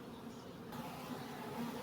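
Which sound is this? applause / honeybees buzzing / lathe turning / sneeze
honeybees buzzing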